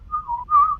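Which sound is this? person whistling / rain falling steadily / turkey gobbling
person whistling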